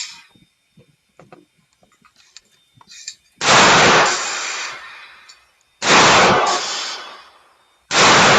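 Panzer Arms EG200 shotgun firing Black Aces rounds outdoors: three loud, booming blasts spaced a couple of seconds apart, each ringing out and decaying, preceded by faint clicks and handling noises.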